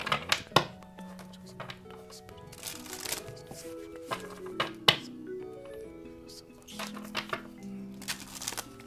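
Oracle cards are shuffled by hand in a series of crisp riffles and sharp slaps, close and fairly loud, with irregular bursts and brief pauses between them.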